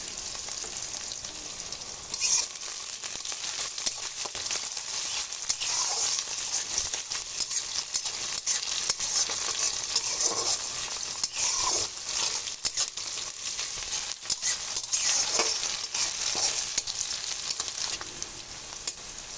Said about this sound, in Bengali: পেঁয়াজটা আমার হালকা একটু ভাজা হয়ে গেছে।